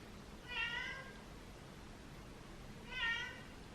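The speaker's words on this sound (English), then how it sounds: "So I'm gonna end this vlog with meowing in the background" A house cat meows twice, about two and a half seconds apart, faint and in the background over a quiet room.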